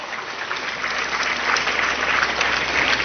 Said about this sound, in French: On applaudit pour nous.